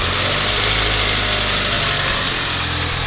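A 1992 Eagle Talon engine running with its ignition timing off, a loud close steady drone with a faint uneven pulse, no voices over it.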